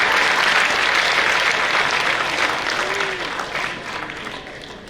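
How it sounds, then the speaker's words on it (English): At a university convocation ceremony, the crowd gives strong applause to the gold medal recipients. Dense, loud clapping from many people fills the hall, then thins and fades a little over about five seconds. "Please give a huge round of applause"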